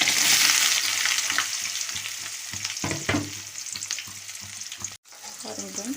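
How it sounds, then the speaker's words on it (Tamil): Chopped onion, garlic and green chillies sauté in oil with mustard seeds for a beetroot poriyal. A steady sizzle, loud at first, runs under scraping stirs, with a brief drop-out before the frying resumes. "வெங்காயம் வந்து ஒரு டூ மினிட்ஸ் நல்லா வதங்கிட்டோம்"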